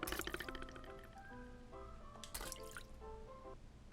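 Faint watery drips and splashes in a video game about a toaster and bread, a few quick liquid plinks and gurgles as a character drops into water, heard alone without talk.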